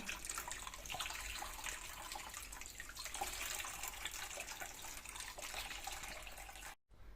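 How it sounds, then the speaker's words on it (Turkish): Liquid drains steadily from homemade cheese being strained, a constant close trickling and splashing wash that cuts off abruptly near the end. "İyice süzdürüyoruz."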